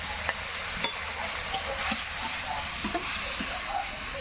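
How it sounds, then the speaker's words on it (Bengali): Chicken pieces fry in a pan with a steady sizzling hiss, punctuated by scattered pops and small spatula scrapes, close and without talk. "চিকেন সুন্দর ফ্রাই করে নিয়েছি"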